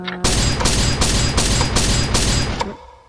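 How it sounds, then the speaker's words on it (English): Fireballs being shot in a video game, a loud rapid series of about six heavy bursting blasts in quick succession before cutting off abruptly. "I only shot a couple fireballs at you."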